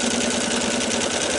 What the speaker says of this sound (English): So I'm going to sew these strips